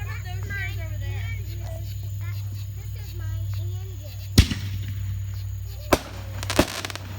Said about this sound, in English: Mary, look at those fireworks